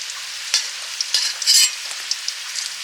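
Boiled potatoes frying and being stirred in hot oil, with a steady soft sizzle and occasional scraping clinks of a utensil in the pan, close and fairly quiet.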